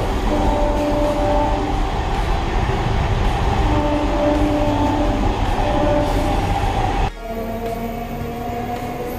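A Siuri–Sealdah MEMU local train with wooden-seated coaches runs with a loud, steady rumble and rattle of wheels on track, dropping to a quieter, smoother hum partway through. No voices.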